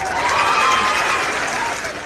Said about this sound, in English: I needed to do a quick cheer because I saw I had another subscriber